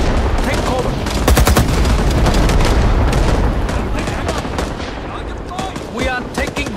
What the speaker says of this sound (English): Barrage inbound. Take cover.